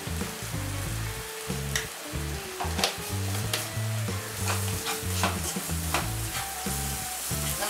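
Tomato masala for palak dal bhaji sizzles in a pan while a spoon stirs it with repeated scraping and knocking strokes, close and steady with no talking.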